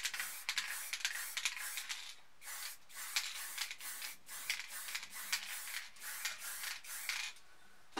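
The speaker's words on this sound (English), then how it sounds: "we'll spray on each side" Spray paint can spraying red paint onto a palm tree art piece in repeated short hissing bursts, each about half a second, with brief pauses between, close and fairly quiet, no talking.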